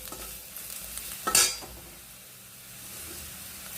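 Onions with salt are stirred as they fry in a pan for an egg masoor dal, a soft sizzle broken by one loud metallic scrape or clink of the spoon against the pan.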